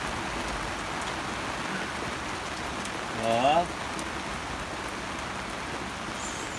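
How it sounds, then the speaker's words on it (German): Steady hurricane rain hisses and patters all around a sailboat at Barra de Navidad, Mexico, constant and moderately loud, with a brief German word from a nearby voice in the middle. "Kommt noch mehr Regen, keine Angst."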